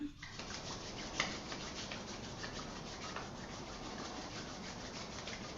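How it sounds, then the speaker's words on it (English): Palms rubbed briskly together during a hatha yoga practice, a soft continuous close-up friction swish that runs evenly for several seconds with one brief brighter brush near the start. "And then rubbing the palms together."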